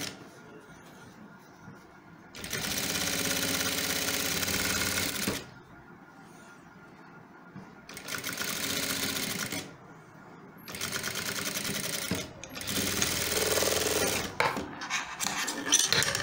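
A sewing machine double-stitching the front and back pieces of a men's shirt together runs in several bursts of a few seconds each, steady whirring separated by short pauses with quiet handling.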